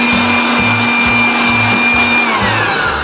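A cordless blower-vacuum whines steadily at full power as it sucks dust from a car floor mat. Dull rhythmic thumps repeat as the nozzle passes back and forth over the mat.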